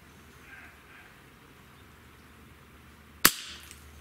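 A single sharp crack from a Barra 1100Z PCP air rifle firing a pellet, loud and close, with a brief fading tail after a quiet lead-in.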